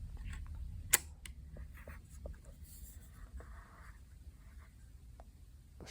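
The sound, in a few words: camera shutter cocked and released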